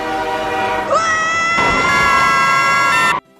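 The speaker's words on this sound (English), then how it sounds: "Link has a fucking train." The train in The Legend of Zelda: Spirit Tracks sounds a loud tonal whistle that rises in pitch and then holds a bright steady blast before cutting off abruptly.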